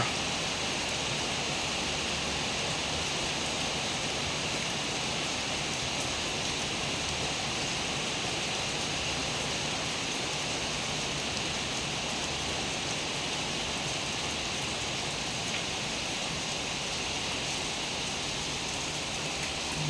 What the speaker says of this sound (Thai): วันนี้ฝน